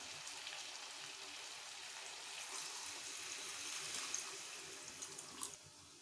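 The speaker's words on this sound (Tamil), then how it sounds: "அதனால ஒரு டம்ளர் தண்ணி ஊற்றிக்கலாமுங்க." Water poured into a pan of country chicken pepper fry gives a steady, faint splashing hiss that runs alone for several seconds.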